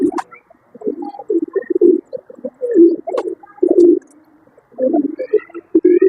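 Pigeons on a rooftop coo in repeated low, throaty bursts, close and fairly loud, with short pauses between calls.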